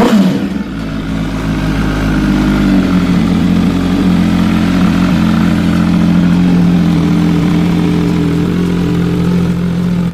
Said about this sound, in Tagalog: Ang motor na ito ay German racing motorcycle na naging maganda ang production para nga magamit sa public road.